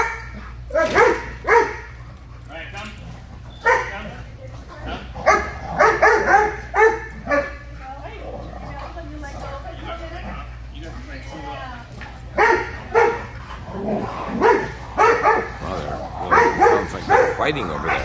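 Dogs at a puppy social bark, yip and whimper in bursts while scuffling and playing, fairly close, with a person talking at intervals among the barks.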